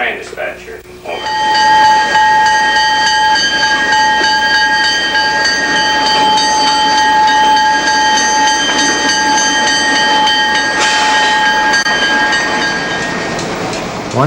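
Newfoundland Railway Extra 944 East pulls out of Bishop's Falls in 1989, a loud sustained rail drone with strong tonal whine over rumbling wheels, continuous for the whole stretch.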